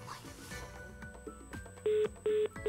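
A telephone call is dialed, with a few quiet clicks followed by three loud, even DTMF tone beeps separated by short pauses.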